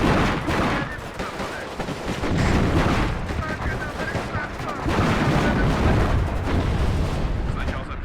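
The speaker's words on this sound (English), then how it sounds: "The grenade launchers are doing a very good job." Dense, continuous gunfire and explosions from grenade launchers and armoured combat in the Cold War strategy game WARNO, loud and sustained with overlapping bursts and booms throughout.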